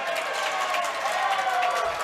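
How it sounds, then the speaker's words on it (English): An ice hockey arena crowd roars as a dense, steady wash of cheering and applause at moderate distance, with no clear breaks. "The referee takes a tumble, crowd a big noise."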